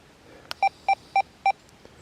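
Four short, evenly spaced two-pitch electronic tones from a metal detector running a modified sensitive FT program, loud and clear against a quiet background.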